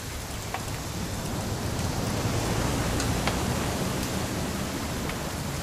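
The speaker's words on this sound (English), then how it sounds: "It's gonna rain the whole weekend," Steady rain falls in the video game What Remains of Edith Finch, a dense, even hiss of drops on surfaces with a few sharper patters, continuous and fairly close, with no voices over it.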